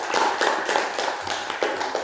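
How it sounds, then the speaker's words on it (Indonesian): A classroom group claps briefly for a presenting student team, a short burst of scattered hand claps lasting about two seconds. "Tepuk tangan untuk kelompok nukleotida"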